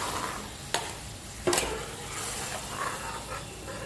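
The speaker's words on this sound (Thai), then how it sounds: "ผัดหัวกะทิให้แตกมันก่อนนะคะ" Coconut cream stir-fries in a pan over low heat as the base for a pork panang curry. A soft, quiet sizzle carries on throughout, broken by two sharp utensil clicks against the pan.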